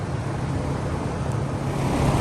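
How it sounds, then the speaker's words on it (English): A constant broadband whooshing drone from an electric fan in a workshop fills the clip, steady and fairly loud, with a faint low hum underneath and no speech. "Sorry about the fan noise."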